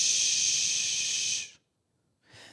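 A voice makes a long breathy "shh" whoosh, then pauses briefly before starting another, imitating a rushing flow.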